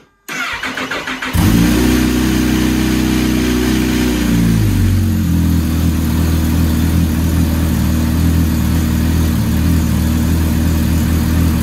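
Kawasaki H2 SX SE motorcycle (2018) starts and settles into a loud, steady idle in gear, its low engine drone continuous and close with a broad hiss above as the radiator fan runs.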